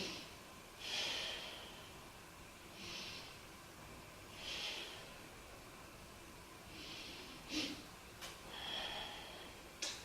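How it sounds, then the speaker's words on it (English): Slow yoga breathing during a back-strengthening exercise: soft, drawn-out breaths rising and fading several times in a slow, even rhythm, faint and close, with no talk. "Let's take 3 breaths here."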